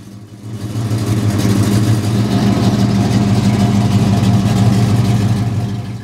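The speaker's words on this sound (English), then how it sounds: "long tube headers channel that amazing sound through a huge dual exhaust system passed through IMCO mufflers at the back" A 1970 Ford Torino King Cobra with a Boss 429 V8 runs through long tube headers, a large dual exhaust and IMCO mufflers. It gives a loud, deep, steady rumble that swells up and holds.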